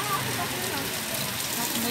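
Steady broadband hiss of Christmas rain pouring down in Itapetim, Pernambuco, Brazil, continuous and fairly loud throughout, with faint voices murmuring underneath.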